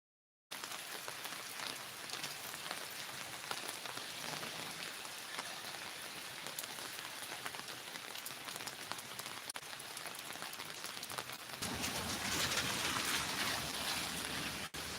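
Steady rain falls throughout a morning walk, a dense continuous patter of drops on surfaces that grows heavier toward the end, with no voices.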